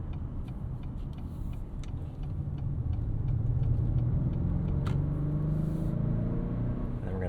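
A 2025 Acura RDX A-Spec Advance SUV with a turbocharged K20 engine pulls onto a highway, heard from the cabin as a low, steady engine drone that swells slightly as it builds boost, with a few faint ticks over the road rumble.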